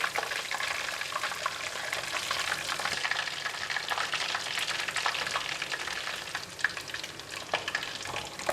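A whole seabass fries in a pan with only its tail in the oil, giving a steady, close, crackling sizzle with fine popping spatters throughout and no talking.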